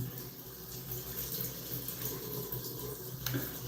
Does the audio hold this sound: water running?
yes